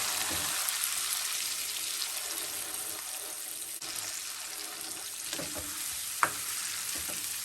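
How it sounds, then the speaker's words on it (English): Chopped and pureed tomatoes sizzling in a pan for pizza sauce, a constant hiss with a few faint stirring taps and one sharp clink, steady and close. "we're going to add the chopped tomatoes and the pureed tomatoes"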